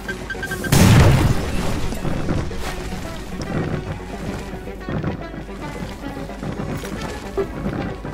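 Explosives detonating in the video game Madness Project Nexus: one loud, deep boom early on, then a rumbling, noisy tail that slowly fades under busy game background sound.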